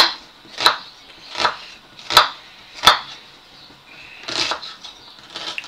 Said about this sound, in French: on va couper, on va émincer les oignons